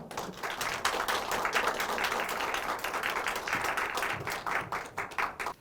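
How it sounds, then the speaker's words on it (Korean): Audience applause at a teachers' training case-sharing event as the foundation chairman comes up, steady dense clapping that fills the whole stretch and tapers slightly at the end. "이사장님 나오실 때 큰 박수 부탁드립니다."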